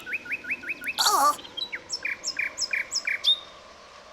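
A small bird chirps outdoors on a cold day, repeating quick bright two-note calls in a lively series with a brief scratchy squawk partway through, close and clear. A single short exclamation is voiced once over the birdsong.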